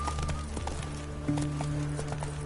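Roach, a horse in The Witcher 3, gallops with rapid rhythmic hoof clip-clops, close and steady, over a low game-music drone.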